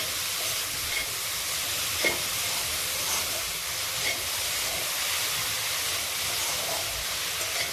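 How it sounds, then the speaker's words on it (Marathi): Washed dried fish (sukat) stirred in a hot pan for a chutney, giving a steady broadband sizzle and frying hiss with faint scraping of the spoon, continuous and close throughout. "ही स्वच्छ धुवून घेतलेली सुकट टाकते। आणि चांगली मिक्स करून घेते।"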